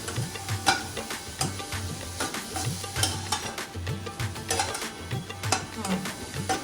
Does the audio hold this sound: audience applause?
no